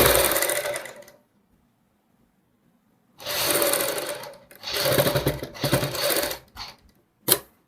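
Sewing machine running bursts while stitching a double seam on a girls' top: a whirring, rattling run, a pause of about two seconds, then several more runs of varying length and a final short tap, close and clear without talk.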